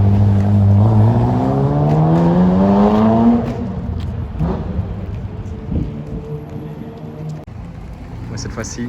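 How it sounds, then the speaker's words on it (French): Ferrari F40 supercar pulling away on a busy Paris street, its loud engine climbing in pitch through the gears for a few seconds before fading into crowd and street noise. "C'est vraiment impressionnant avec la Carrera GT qui reste là et la F40 qui s'en va."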